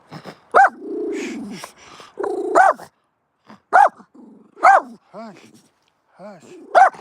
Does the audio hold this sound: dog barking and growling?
yes